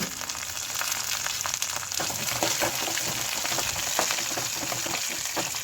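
Green chillies and curry leaves fry in hot oil with a steady, dense sizzle and crackle, close and continuous throughout, with small pops scattered across it and no voices.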